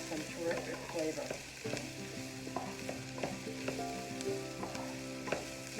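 Minced garlic being stirred in a pot of cabbage soup: a steady scrape and soft sizzle with occasional spoon knocks, heard under quiet background music.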